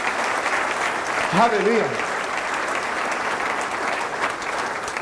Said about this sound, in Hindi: जोरदार तालियां खुदा यीशु के लिए